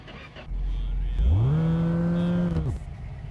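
A car driving into a garage in the video game My Garage, with a low engine drone rising in pitch, holding steady as it moves forward, then cutting off.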